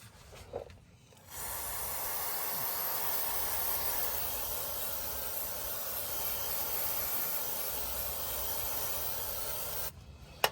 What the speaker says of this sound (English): We'll clean it with some brake cleaner.